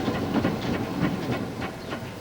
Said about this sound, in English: It's my wonderful steam engine, see?